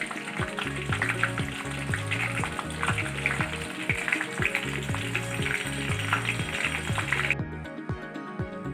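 Brahmi leaves and small pieces of gooseberry boil in oil with a busy, crackling frying sizzle. A steady tonal backing plays underneath, and the bright crackle cuts off abruptly near the end.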